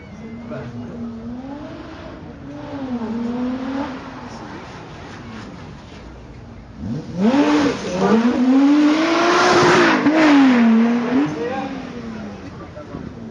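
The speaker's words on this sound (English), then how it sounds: "Flying up the straights, we've got one of the latest cars to come from McLaren. This is the 720S." A McLaren 720S twin-turbo V8 supercar accelerates hard on a track, its engine note climbing and falling through the gears, moderate at first and then much louder and closer from about seven seconds on.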